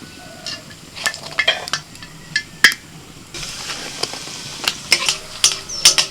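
Hing kochuri stuffed with chatu fries in hot oil, giving a steady soft sizzle broken by sharp metallic clinks and scrapes of a ladle against the pan.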